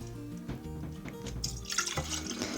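Water poured into a Delft flower vase, splashing and trickling near at hand with uneven gurgles that grow brighter toward the end, over a faint low background hum.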